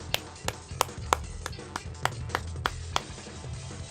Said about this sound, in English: clapping is bad on a on OBS because it doesn't like that high-pitched sound